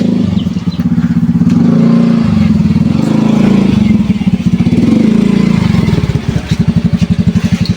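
A motorcycle rides by on a road close at hand, its engine loud and pulsing with throttle swells and dips that rise and fall as it passes.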